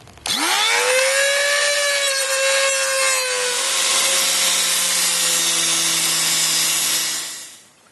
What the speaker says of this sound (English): I did actually manage to get the grinder in there, and I've managed to make that end of the bolt loose